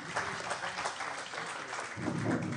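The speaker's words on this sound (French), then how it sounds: "on peut les applaudir" An audience at a French conference on digital transformation and training applauds panel speakers, a dense, even, moderately distant wash of clapping held steadily throughout.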